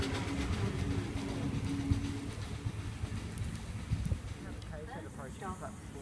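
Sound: Sydney Trains K set train arriving at Birrong platform

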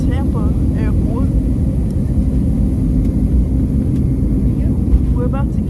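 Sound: airplane in flight to Tampa

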